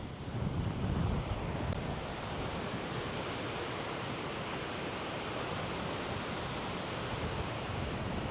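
A waterfall near Juneau, Alaska pours constantly, heard as a steady, dense broadband rush like surf or wind, moderately distant and unbroken throughout, slightly louder in the first couple of seconds.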